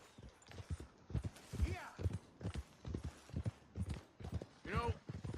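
A horse being ridden in Red Dead Redemption 2, hooves clip-clopping in an even walking rhythm, close and clear, with a voice speaking over the steps.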